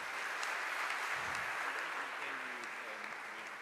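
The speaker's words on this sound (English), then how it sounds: "Welcome, an applause." A church congregation at an icon blessing applauds in a steady, even wash of clapping, with faint voices mixed underneath.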